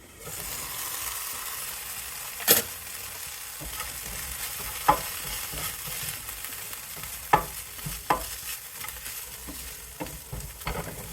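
Beans simmer and sizzle in a pan with a soft, steady hiss, broken by several sharp clinks and scrapes of a utensil stirring at irregular intervals, close by and with no talk.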